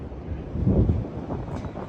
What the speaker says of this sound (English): I'm trying to keep some of the wind noise out of this, but there may be some